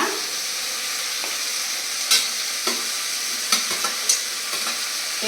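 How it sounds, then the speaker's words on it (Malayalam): Vegetables for sambar, including potato, pumpkin, drumstick and snake gourd, are stirred in a sizzling pan, giving a steady fry hiss with several distinct scrapes and clatters of the spoon, and no talking. "ഇനി ഇതൊന്ന് നമുക്ക് നിളക്കാം നന്നായി"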